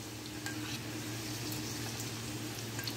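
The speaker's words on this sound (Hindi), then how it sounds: "इसको अच्छा पिंक कलर आ जाए उतना फ्राई करना है आलू को" Potatoes frying in oil for an achari aloo dish, a steady broadband sizzle with soft stirring scrapes and faint crackles throughout, close and continuous with no talking.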